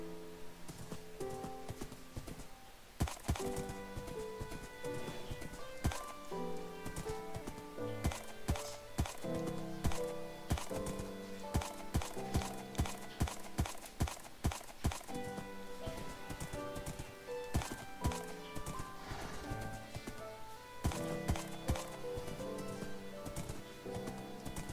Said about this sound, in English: This is a noticeably faster horse.